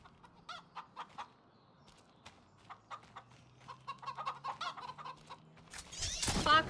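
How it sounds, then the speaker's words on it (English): Clucking chickens in a farming video game, a run of short choppy clucks that grows busier and louder toward the end before a sudden burst of noise, with no voices. "Gotta love your chickens."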